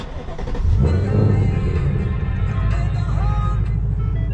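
A 2024 Ford Mustang GT V8 starts up close by, the engine catching with a loud burst and then settling into a deep, throbbing idle rumble.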